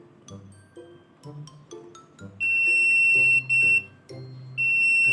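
A digital multimeter in continuity mode beeps as its probes touch the U, V and W terminals on an LG refrigerator inverter board with a six-blink fault: three loud, steady high-pitched tones of differing lengths, with someone talking quietly underneath.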